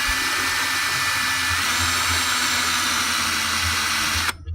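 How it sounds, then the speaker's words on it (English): A 6mm twist drill bit boring a hole in a handmade wooden crankbait body, a steady continuous whine of the drill motor running close and loud for several seconds before cutting off abruptly. "So I'm going to drill a hole with a 6mm drill bit."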